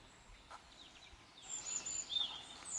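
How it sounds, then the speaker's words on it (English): Faint bird song in a quiet morning studio space: a brief high chirp early, then a thin, rising string of twittering notes in the second half, soft and somewhat distant over low background hiss. "Can you hear the bird singing?"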